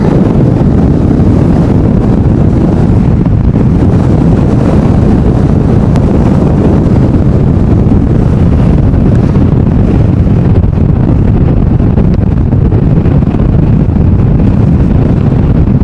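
Strong, steady wind buffeting an outdoor plane-spotting position at Amsterdam airport during stormy weather, a loud continuous roar with no break and no talking.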